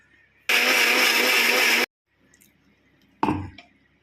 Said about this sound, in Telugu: వాటర్ వేసుకున్న ఉప్పు వేసుకొని మెత్తగా ఇంకా పట్టేసుకొని వస్తాను మిక్సీది